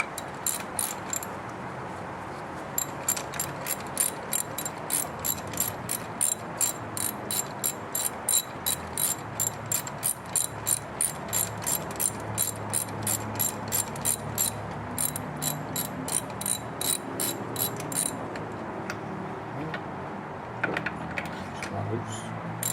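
A ratchet wrench loosens a bolt with a long run of quick, evenly spaced clicks, close and moderately loud over a low background hum, pausing briefly near the middle.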